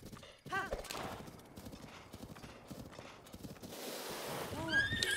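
A horse gallops in the Breath of the Wild video game, with a fast, steady clip-clop of hooves running throughout and a brief neigh near the end, over game ambience.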